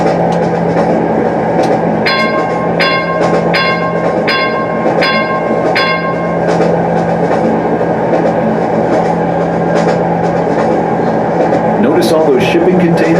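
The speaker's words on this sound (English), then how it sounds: "Here's the bell." Norfolk Southern freight locomotive bell rings in a steady run of about six evenly spaced strikes over loud train rumble and clatter, with other rail sounds continuing after it stops.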